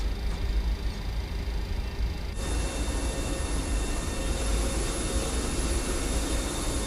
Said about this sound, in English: APU spooling.